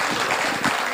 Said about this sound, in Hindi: एक बार ज़ोरदार तालियां बजा के मुझे ये एहसास कराएं कि आप थके नहीं हैं।